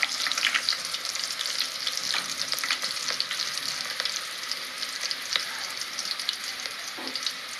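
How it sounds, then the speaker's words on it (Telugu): Tempering spices and onion pieces sizzle in hot oil for a drumstick chicken curry, a steady, dense frying hiss with faint crackles throughout and no talking. "కొద్దిగా పోపు దినుసులు వేస్తున్నాను."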